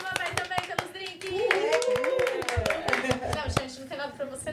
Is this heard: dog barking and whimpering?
no